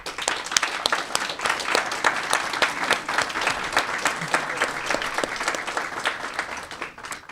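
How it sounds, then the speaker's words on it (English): Sustained applause from the audience at a school Board of Education meeting, many hands clapping at close range in a dense, lively patter that carries on steadily throughout. "So let's give our Board of Education a round of applause."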